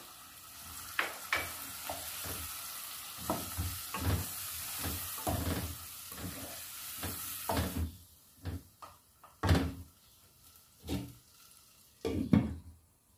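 Tomato paste with red chilli and coriander powder frying for chicken shorba, a steady close sizzle broken by repeated scraping stir strokes, with sharper clatters of the spoon on the pan near the end.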